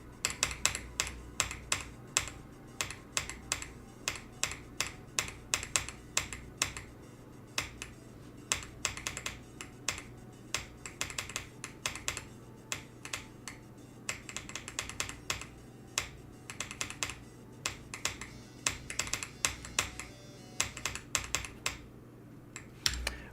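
Wooting computer keyboard typed on rapidly during a Geometry Dash game, with dense, close, clicky keystroke bursts continuing for over twenty seconds without talk.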